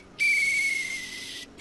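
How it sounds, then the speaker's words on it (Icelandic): A rescue whistle gives one long, shrill, steady blast at close range, followed by the start of a second blast, with no voices over it. "Þetta er björgunarflauta."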